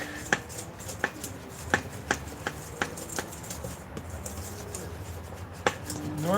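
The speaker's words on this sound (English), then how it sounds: "we're gonna mix up all these dry ingredients here. Using our Danish whisk." Dry ingredients being mixed with a Danish whisk in a bowl, giving a series of close, crisp knocks and taps at an uneven rhythm over a soft scraping background.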